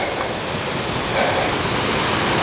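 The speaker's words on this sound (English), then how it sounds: "it's starting to rain again." Rain falling along a woodland track in North Wales, a dense, even wash of broadband hiss with no distinct drops and no pauses.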